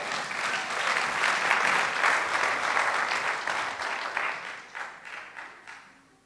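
A church congregation breaks into sustained applause that swells, holds steady, then thins into scattered claps before fading out, with no speech over it.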